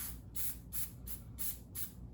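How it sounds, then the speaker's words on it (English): Oil sprayed from a can onto a foam uni air filter for a STIHL 400c chainsaw, four short hissing bursts evenly spaced with brief pauses, close and fairly quiet. "And then I just take it here and I spray it lightly."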